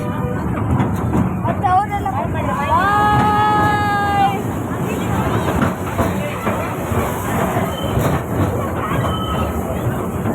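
A small park ride train rolls into its station and stops, with a short horn-like toot over steady outdoor crowd noise and nearby voices talking.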